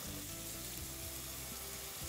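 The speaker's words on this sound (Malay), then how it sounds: "Ini pun dah mendidih." Vegetable soup broth boiling hard in a cooking pot, a continuous close bubbling and hissing roil with no pauses and no voices.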